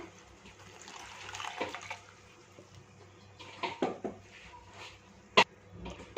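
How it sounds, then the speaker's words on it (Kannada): Water poured into ground masala in a pan gives a close, splashing gush that rises and falls, with a few louder bursts and a sharp clink near the end. No one speaks. "ಸ್ವಲ್ಪ ನೀರನ್ನ ಸಹ ಸೇರಿಸ್ತಾ ಇದ್ದೀನಿ ಅದಕ್ಕೆ"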